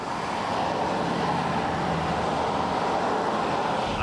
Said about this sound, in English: all you can hear is the other cars making lots of noise